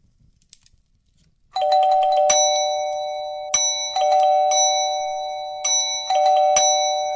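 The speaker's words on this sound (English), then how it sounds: "the bells on his door started to ring" Small bells hung on a door ring out in a Christmas Carol audio drama scene by a fireside, a loud cluster of bright chimes bursting from silence and struck again several times, each shimmering ring sustaining before the next.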